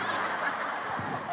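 A man imitates a chicken during a religious lecture, a short, loud, close clucking call made with the voice.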